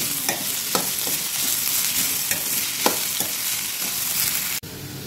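Carrot fry crackling and sizzling in hot oil in a pan, a dense close hiss dotted with small pops and occasional stirring scrapes, stopping abruptly near the end.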